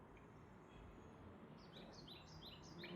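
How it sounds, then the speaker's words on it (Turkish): Faint birdsong chirps and tweets repeat softly over a low hiss, rising slightly toward the end, heard at a distance, played back through Anker Soundcore Life Q30 headphones. "kuş sesi"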